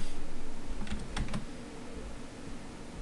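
A server password is tapped out on a computer keyboard in a short burst of close, crisp keystrokes over a steady background hum, with no talking.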